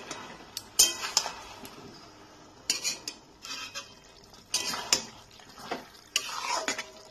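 Ridge gourd and potatoes frying in a pan for jhinge alu posto, a soft sizzle broken by bursts of spatula scraping and metal clinks against the pan, close up and without speech.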